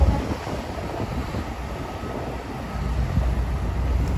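A train rumbles through Moynihan train station in New York City, a steady, moderately loud rolling noise with a low undertone and a thin high whine, heard without speech.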